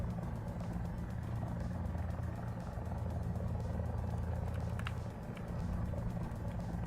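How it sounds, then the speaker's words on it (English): An enemy helicopter in the War Thunder combat game, a steady rapid rotor thump layered over a constant low engine drone, fairly close and continuous with no talking. "Heli, enemy heli."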